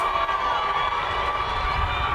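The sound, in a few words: football crowd reacting unhappily to a penalty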